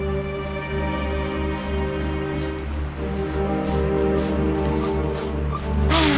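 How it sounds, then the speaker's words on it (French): Rain falling in a cartoon, a steady patter of drops layered over a sustained tonal background, continuous and fairly loud with no speech. "Cette vilaine pluie n'a pas l'air de vouloir s'arrêter."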